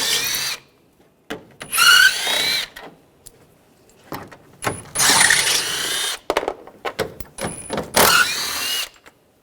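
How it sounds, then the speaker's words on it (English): A power tool with a 10mm socket spins out the headlight cover bolts on a 2013-2016 Dodge Dart. It runs in several loud, close whirring bursts, with ratcheting clicks and short pauses between them. "I'm going to use a 10mm socket, take these bolts out."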